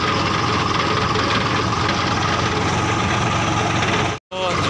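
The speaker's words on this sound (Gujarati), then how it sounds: "તો આ રીતે ટ્રેક્ટર જાય ને પેરોમની થાય." A tractor engine runs steadily and loudly up close while sowing groundnuts in a monsoon field, a constant droning rumble that cuts out for a split second near the end.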